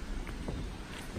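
A village stream in historic Castle Combe flows with a steady, soft broadband rush, heard briefly and alone at low level.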